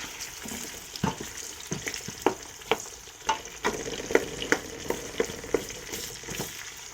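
Onions being stirred in a cooking pot give a soft sizzle under a steady run of clattering spoon scrapes and knocks against the pot, close by and irregularly paced, with no voices.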